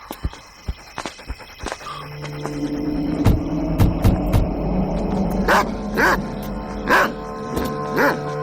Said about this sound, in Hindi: ये आज इतना भौंक क्यों रहा शायद है?